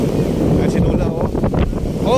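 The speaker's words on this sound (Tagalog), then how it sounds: "Lakas ang hangin." A strong typhoon wind buffets the microphone along Manila Bay with loud, continuous rumbling gusts, with faint voices mixed in.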